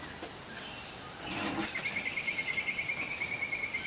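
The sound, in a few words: birds singing outdoors in late afternoon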